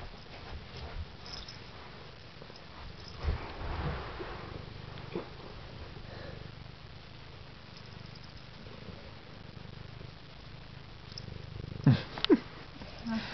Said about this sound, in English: He wants to purr. Let's let him purr.